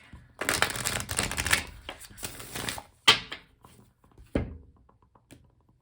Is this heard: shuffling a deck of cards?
yes